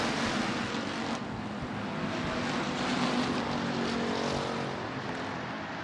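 IMCA Hobby Stock race cars roar around a dirt speedway oval in a steady, loud engine drone that rises and falls slightly as the pack passes.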